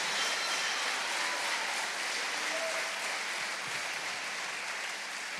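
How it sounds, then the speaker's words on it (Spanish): A church congregation claps steadily in praise, a dense, even wash of applause from many hands that holds at a constant level the whole time. "Démosle un aplauso para alabar al Rey de Reyes."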